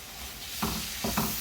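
Bulgur stir-frying with freshly added green onions and chili in a warm kitchen: a steady close sizzle throughout, with two or three brief scraping stirs of a utensil against the pan, no voices.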